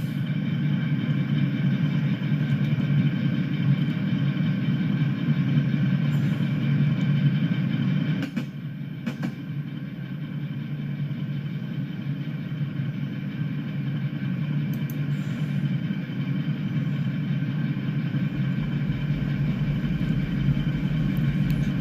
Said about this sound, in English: That sound you hear in the background is the washing machine.